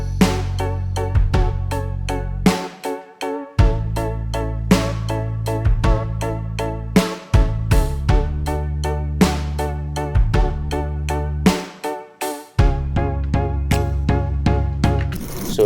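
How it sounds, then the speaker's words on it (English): Drums, bass and keys playing a song's groove, a steady rhythmic pattern of punchy hits over sustained low bass notes and chords, with a few brief drop-outs between phrases, alone with no talk. "So if I add the drums to the bass and the keys, we have something that sounds like this."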